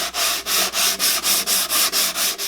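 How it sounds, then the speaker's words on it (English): A sandpaper block with 220 grit rubs across the wooden body of a ukulele kit in quick, even back-and-forth strokes, about eleven in two and a half seconds, close and loud with brief gaps between strokes. "I'm going to go ahead and sand now to 220."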